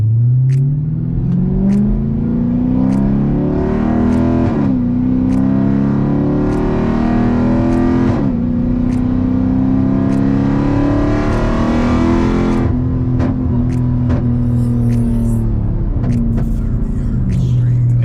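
A car engine drones and revs through rising and falling gear changes in manual mode, with sharp ticking clicks scattered over the steady aftermarket exhaust rumble heard from inside the cabin.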